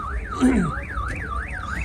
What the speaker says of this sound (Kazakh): Бул машина жаатан бери сигнализациясы иштеп турат